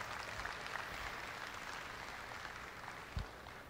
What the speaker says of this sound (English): give all of our juniors a real nice round of applause